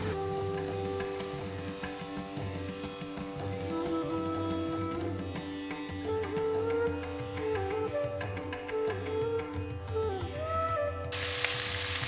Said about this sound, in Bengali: সামান্য একটু নুন আর হলুদ দিয়ে পটলটা আমি এখানে ভেজে যাবো